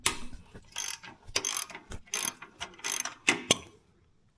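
A ratchet loosens the motor mount bolts on a go-kart with a Predator 212 engine, giving loud, close bursts of rapid clicking that start and stop in uneven strokes, with no talking.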